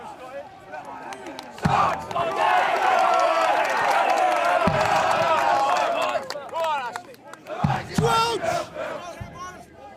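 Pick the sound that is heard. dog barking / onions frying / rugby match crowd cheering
rugby match crowd cheering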